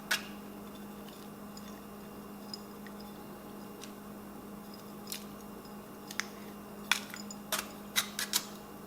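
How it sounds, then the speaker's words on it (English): Nuts sprinkled over a cherry dessert land as a few faint ticks early on, then a quick cluster of small sharp clicks toward the end over a quiet room hum. "Now we're just going to sprinkle some of those nuts."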